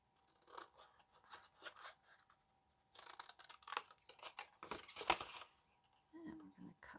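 Scissors snip through card along a score line while building a Christmas bag-in-a-box, sounding as a series of close, crisp cuts in short bursts with brief pauses between them.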